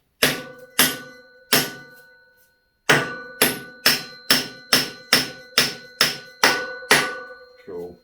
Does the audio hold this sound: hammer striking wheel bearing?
yes